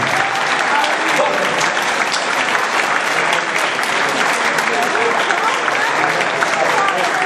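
Sustained ovation from a live audience after the tango "Pasional" danced by Aníbal Castro and Deborah Mazza, thick continuous clapping from many people at a steady, loud level for seven seconds.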